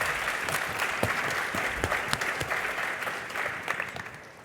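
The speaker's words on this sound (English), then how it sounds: "please do join me in giving our speakers a very warm round of applause" An audience at a curators' talk applauds the speakers with sustained, even clapping from a good-sized room, with a few louder individual claps popping out close by, no talk over it.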